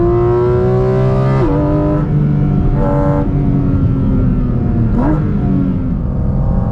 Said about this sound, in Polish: to pałowanie to jest po prostu symfonia dla uszu